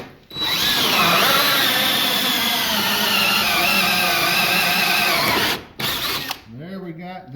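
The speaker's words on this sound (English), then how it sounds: "So now we grab the drill with the hole saw." A power drill whines steadily at high speed as a hole saw grinds through wood, then stops briefly, spins up again and winds down.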